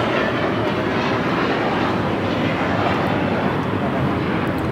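JetBlue Airbus A321, seven years old, taking off from LAX bound for Boston: a loud, steady broadband jet roar that holds constant throughout, filling the scene with dense engine rumble and hiss.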